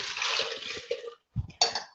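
Water poured into a G2.6 blender jar over mushrooms during meal prep, a bright splashing pour that runs steadily, stops briefly, then resumes in short splashy bursts, close and clear.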